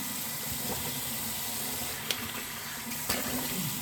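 Tap water runs steadily into a sink while something is rinsed off, a constant close hiss with two brief splashy knocks partway through.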